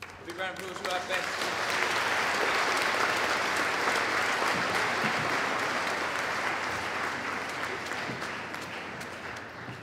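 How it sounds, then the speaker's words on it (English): Sustained applause from an audience at a school awards ceremony, a steady wash of many hands clapping that swells early and holds for nearly ten seconds before easing slightly. "Big round of applause for our best."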